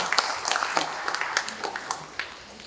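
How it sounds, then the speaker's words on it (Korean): Applause from an audience of redevelopment union members welcoming their union chairman at a briefing session: scattered, moderately quiet clapping with distinct individual claps across a small room, fading slightly toward the end. "큰 박수 한번 맞이해 주십시오"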